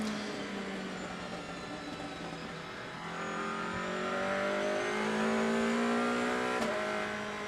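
DTM race car in qualifying at Zandvoort, heard from onboard: a loud, steady engine roar that climbs and shifts pitch through the gears, holding close and constant with no talk over it.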